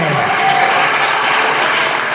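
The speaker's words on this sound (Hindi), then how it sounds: "वो ताली बजाकर परमेश्वर को महिमा किया करे" Church congregation clapping in worship, a steady, loud wash of hands throughout the short stretch with faint voices underneath.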